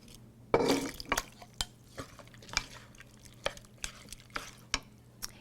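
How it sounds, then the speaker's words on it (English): Spoon stirring chili powder, oregano and tomatoes in a cooking pot, with a series of soft scrapes and clinks against the metal at irregular intervals, close and quiet, no talking. "We're going to stir that around, and we're going to add our tomatoes"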